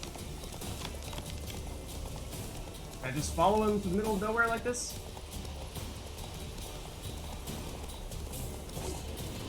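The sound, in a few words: horse galloping hooves in video game The Witcher 3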